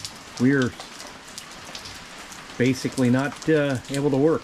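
Rain falls steadily on the ninth or twelfth straight day of wet weather, a constant patter heard under someone talking in several short bursts.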